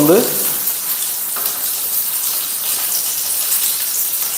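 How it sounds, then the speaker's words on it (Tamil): Okra frying until crisp in hot oil, a close, steady hiss and crackle of sizzling that runs unbroken throughout. "வெண்டைக்காய் வந்து நல்ல கிறிஸ்பாக வந்து இதாகிடுச்சு."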